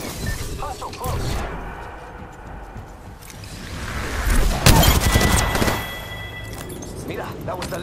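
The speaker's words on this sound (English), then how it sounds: "Opening fire." Bursts of gunfire in an Apex Legends battle, loud cracks and a swelling fusillade peaking midway, mixed with game voice chatter and effects.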